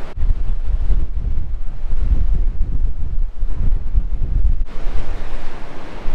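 Loud, constant roar of surf and gusting wind buffeting the microphone at Bells Beach, Australia, with waves rumbling continuously close by.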